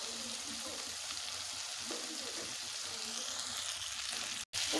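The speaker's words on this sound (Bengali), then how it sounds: "ভালোভাবে একটু কষে নেব 2-1 মিনিটের জন্য" Okra tossed with sesame in a hot pan gives a steady, soft sizzle and frying hiss that runs continuously, with faint scraping stirs, heard fairly quietly and up close.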